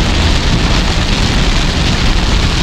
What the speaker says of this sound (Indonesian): Keadaan hujan lebat gila, geng.